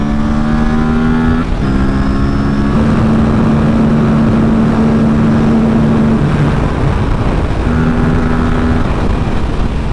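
Aprilia RS457 motorcycle accelerating hard through the gears on a first ride, a loud, close engine drone rising in pitch with brief drops at gear changes, under heavy wind rush, no talk.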